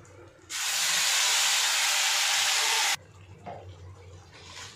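Whole garam masala, dried red chillies, bay leaf and cumin seeds dropped into hot oil set off a loud, sudden sizzle that holds steady for about two seconds and then cuts off sharply, leaving quieter kitchen background.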